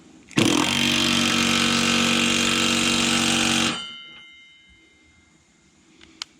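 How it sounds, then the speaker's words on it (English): An impact wrench tightening a bolt runs in one continuous loud hammering burst of about three seconds, then cuts off and quiets, with a faint click after it. "I'll probably just tighten with the impact"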